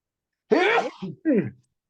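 A man sneezes twice in quick succession, close to the microphone, a sharp burst followed by a shorter second sneeze.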